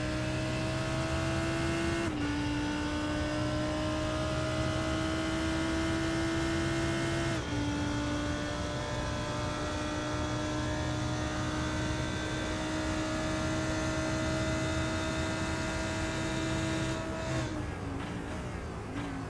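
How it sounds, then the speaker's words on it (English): A Lamborghini GT3 race car in iRacing laps Monza, its engine a loud, continuous high scream holding steady through long pulls, with abrupt pitch drops at upshifts and a deceleration near the end, no voices. "The Lambo GT3 screaming around Monza."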